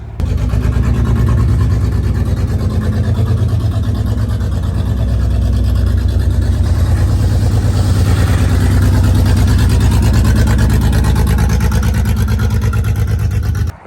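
Engine of a first-generation Mitsubishi Montero droning steadily while driving on the road, a loud, continuous low rumble with a rapid rhythmic pulse that holds throughout, no voices over it.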